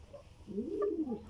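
A soft, low racing pigeon coo rises and falls once, close by, with faint background noise.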